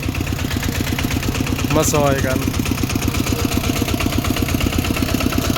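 A walking tractor's single-cylinder engine chugs steadily and close at a rural Thai merit-making festival, a fast even thump running throughout while someone talks over it.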